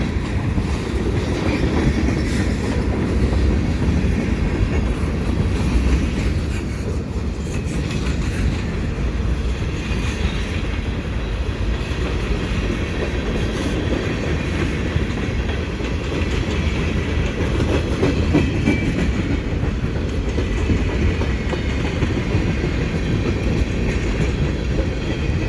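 A CP mixed freight intermodal train rolls past at close range at Marshall Ave., a steady loud rumble of railcars with faint clickety-clack, wind buffeting the microphone throughout.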